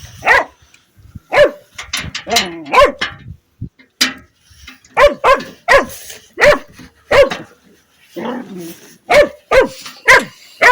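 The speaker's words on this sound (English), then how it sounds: "being a puppy, he's very loud." A playful puppy barks loudly and repeatedly in short, sharp bursts, with occasional yips and whimpers between the barks, close to the microphone. Some background speech is also present.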